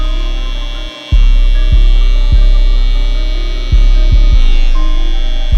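A barber's hair trimmer cutting a lineup makes a loud, close, steady electric buzz that dips briefly near the start. Sharp ticks recur as the blade meets the hairline.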